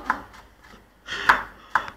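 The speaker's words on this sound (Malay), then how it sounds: "Oh, bawang kecil dihiris." A knife slices shallots thinly on a cutting board for a pineapple salad, giving a few sharp, close taps spaced unevenly with quiet gaps between them.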